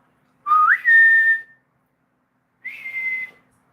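Two short whistles, the first sliding upward and the second shorter and steady, separated by a pause of silence.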